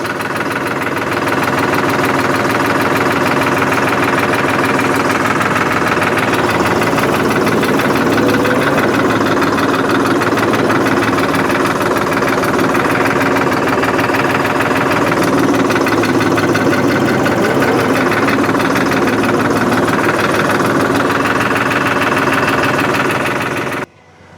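A New Holland 5500 tractor's diesel engine idles close by with a loud, steady, even rumble and a fine rhythmic knock. It runs unchanged for over twenty seconds before stopping abruptly.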